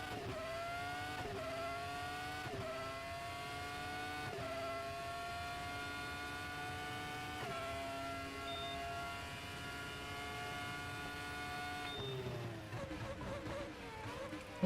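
Formula RaceRoom X-17 race car in a video game, a steady high-pitched engine whine holding near-constant revs with brief gear-shift dips, ending in a sharp drop under braking for a chicane.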